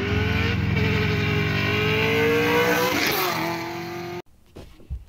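A Pontiac GTO fitted with long tube headers and running without a tune roars loudly at high revs in a sustained, rising blare, then cuts off abruptly, leaving faint rumbles.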